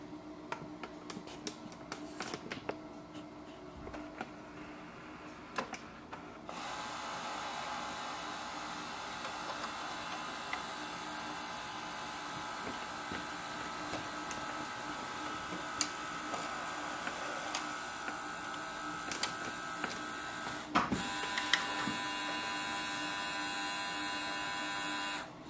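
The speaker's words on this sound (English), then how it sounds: "place a page on the ADF tray or in the scanner" A Canon Pixma TR7620a printer scanning a page runs with a steady mechanical whir and faint ticking, preceded by a few clicks and starting sounds, heard close up in a quiet room.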